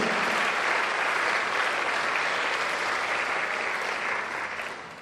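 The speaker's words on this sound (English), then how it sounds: "Just give a round of applause to everyone again." An audience at a school kickoff event gives a loud, dense round of applause that holds steady for several seconds, then begins to fade at the end.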